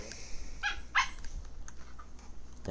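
Dogs barking in the video game Jurassic World Evolution 2, a few short yips and barks with faint whimpering, moderately quiet and spaced out over a soft background.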